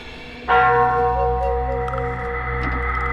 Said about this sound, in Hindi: मंदिर के अंदर वही घंटी अपने आप धीरे धीरे हिल रही थी